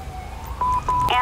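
An emergency siren in the video game GTA V, a rising and falling wail that grows louder and closer over a steady low rumble of traffic or engine noise.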